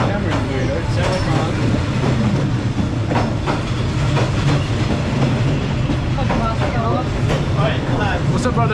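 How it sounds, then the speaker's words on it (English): A train rumbles loudly and steadily past on Hanoi's narrow Train Street, the heavy rolling noise filling the whole stretch while people talk over it. "Oh, train?"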